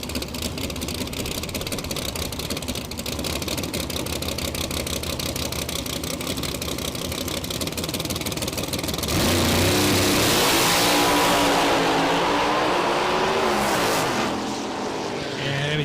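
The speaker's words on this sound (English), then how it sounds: "We see Big Eddie let go of the button here in the small block Ford powered Mustang." A small-block Ford-powered Mustang drag car at the strip: a loud, steady rough engine drone that swells into a harder, roaring launch surge partway through, then fades slightly near the end.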